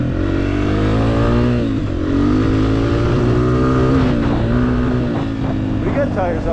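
A Honda CRF dirt bike revs hard on a neighborhood dirt track. The loud, close engine drone rises and falls in pitch as the throttle opens and eases off.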